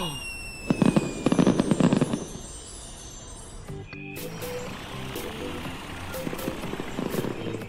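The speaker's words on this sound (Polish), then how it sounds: "Fajerwerki!" A burst of crackling, popping fireworks explosions in a children's cartoon rings out for a few seconds, then gives way to a musical, tonal passage with faint sparkling pops.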